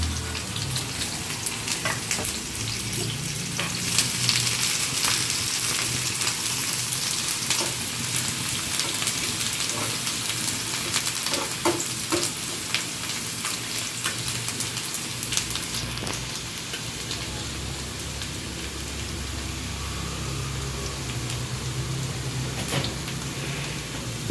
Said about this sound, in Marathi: आता कांदा टाकतो आपण एक कांदा बारीक चिरून घेतला